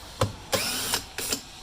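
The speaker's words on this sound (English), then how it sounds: "I'm just going to take a drill with a driver here and an 8mm socket and back those out." A power drill fitted with an 8mm socket backs out bolts on a car taillight, running in three or four short whirring bursts separated by brief pauses, close and fairly quiet.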